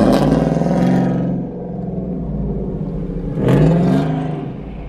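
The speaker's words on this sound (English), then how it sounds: "your truck is loud as hell" A loud truck engine revs on a street near a fast-food spot, two heavy roaring surges with a steady rumbling idle between them, close and alone without talk.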